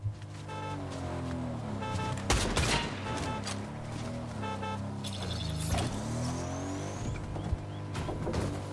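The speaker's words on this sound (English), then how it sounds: "Okay, I guess I'm in this guy's car now." In a Fortnite match, a car engine drones and revs steadily, with bursts of gunfire and sharp game effects breaking in over the hum.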